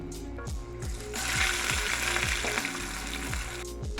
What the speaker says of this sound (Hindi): और अब यहाँ पे मैंने एक पैन के अंदर ऑयल डाल दिया है। अब मैं शामी कबाब फ्राई करती हूँ।